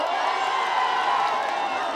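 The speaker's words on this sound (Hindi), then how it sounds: "भैया को जोरदार ताली हो जाए हो" Crowd at an election rally for Rana Randhir Singh in Bihar clapping and cheering, a steady dense roar of applause with scattered shouts and whoops, loud and continuous throughout.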